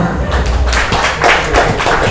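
Students at a religious school's open kitab-reading exam clapping hands, a close, loud patter of claps with some voices mixed in.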